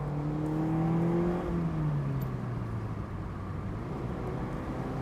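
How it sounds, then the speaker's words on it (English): A Mazda MX-5 Miata gas engine with a manual gearbox revs up and climbs through the gears, its steady drone dipping in pitch at a shift, heard close and loud alongside road noise. "the gas engine revving up, 4th gear up too, just climbing up"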